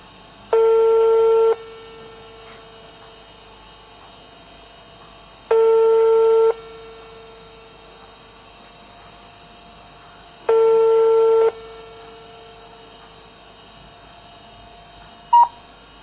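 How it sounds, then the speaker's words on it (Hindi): A telephone rings with no one answering: three loud, identical ringback tones of about one second each, spaced evenly about five seconds apart, with a faint hiss between them. "कोई फ़ोन नहीं उठा रहा है"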